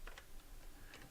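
Quiet, close clicks of typing on a computer keyboard, a few quick keystrokes in an irregular rhythm, alone without talk.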